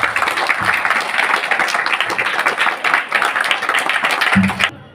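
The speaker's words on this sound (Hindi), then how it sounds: "जो बच्चे उपवास में आए उनके लिए जोरदार तालियां" An audience at a Chhath festival gathering applauds children who have been fasting, with brisk, fairly close clapping throughout that stops abruptly near the end.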